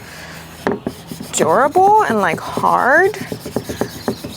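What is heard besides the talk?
hand sanding shellac-primed kitchen cabinet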